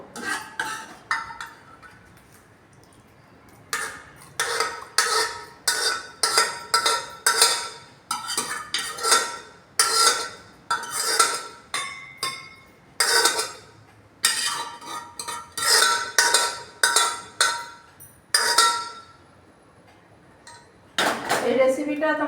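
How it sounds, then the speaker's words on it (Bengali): Onion and bitter gourd curry, cooked in a pressure cooker, is transferred into a bowl with repeated close clinks and scrapes of a metal spoon against the pan and dish in irregular bursts. "এখন আমি একটা পাত্রে ঢেলে নেবো।"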